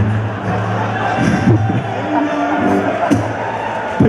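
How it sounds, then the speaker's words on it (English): A big festival crowd at Glastonbury roars and cheers in a steady, dense wash of mixed voices, with a few louder swells rising through the hubbub. "People are cheering"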